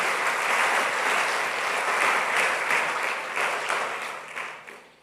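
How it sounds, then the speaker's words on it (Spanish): A large church congregation applauds steadily for several seconds, a dense wash of clapping that fades out toward the end. "Démosle un aplauso al Señor."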